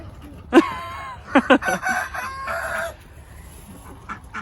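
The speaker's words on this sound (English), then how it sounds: "Gorgeous chickens." Chickens cluck and squawk nearby, with a rooster's crow rising among the sharp calls in a lively farmyard burst.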